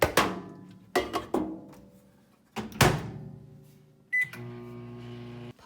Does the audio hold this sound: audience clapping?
no